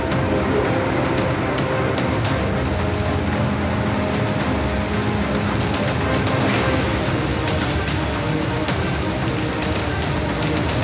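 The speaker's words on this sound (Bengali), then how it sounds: "আজ দুপুর থেকে যে তুমুল বৃষ্টির সঙ্গে ঝোড়ো হাওয়া এবং ঘন ঘন বজ্রপাত" Dense, steady roar of heavy rain pouring down in Kolkata, a constant broadband hiss with scattered sharper drop impacts, no voices.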